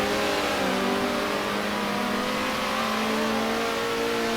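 McLaren race cars from the racing game Circuit Superstars accelerate hard during qualifying, engines wailing in sustained, rising revving tones that stay loud and constant throughout, with no talking.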